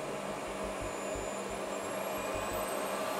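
A household vacuum cleaner running at maximum power, a steady, loud broadband roar with constant whine and a low pulsing rumble underneath, continuous throughout with no talking.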